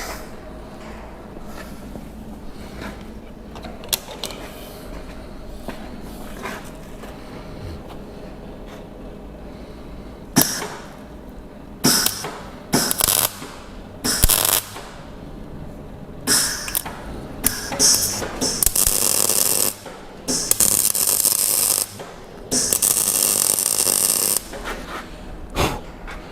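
A car part is being welded in a garage, with a low hum giving way to loud bursts of harsh crackling and sizzling, several stop-start welding runs close by.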